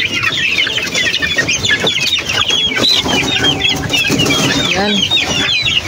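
A flock of chickens clucks excitedly at feeding time, dense overlapping clucks and squawks that stay loud and close throughout, with a brief human voice.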